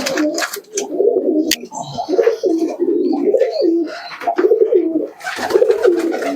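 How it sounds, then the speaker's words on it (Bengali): A Kashri pigeon coos in repeated throaty rolling calls at close range among other pigeons, with a few brief flutters and clatters in between and no talking. "দেখুন একটা কাশরি কবুতর আছে"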